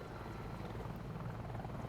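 A helicopter in the video game Wolfenstein 2: The New Colossus gives off a faint, steady rotor drone and rumble, continuous and distant-sounding with no talk over it.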